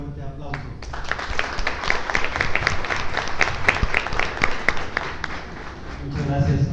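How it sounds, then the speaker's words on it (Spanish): An audience at a formal lecture claps to welcome a magistrate to the podium, moderate applause of many hands that builds steadily and holds, with a voice heard near the start and end. "cedo el uso de la voz al magistrado Castro León, no sin antes recibirlo con un fuerte aplauso."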